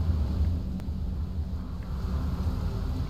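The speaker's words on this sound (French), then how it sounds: "ça doit être le bruit du vent qui passe, qui en passant dans le train ou dans un élément de décor fait ce drôle de bruit" Wind moans through a train in a video game, a low, steady rumbling hum with faint whistling overtones and no voices.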